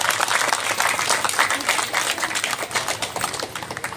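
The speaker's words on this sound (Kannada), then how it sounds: "ಇದಕ್ಕೋಸ್ಕರ ಆದರೂ ನಾವು MLA ಅವರಿಗೆ ಜೋರಾಗಿ ಒಂದು ಚಪ್ಪಾಳೆ ಕೊಡಲೇಬೇಕು" Crowd applause at a shop inauguration ceremony in Yadalam Nagar, Bengaluru South: a dense, steady burst of many hands clapping fairly close, sustained for several seconds with no talk.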